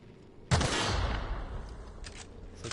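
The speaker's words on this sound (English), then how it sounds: "you gotta shoot these things" Gunfire in The Outer Worlds video game goes off in one loud burst of shots at wire devices, followed by a decaying rumble and a couple of fainter later shots.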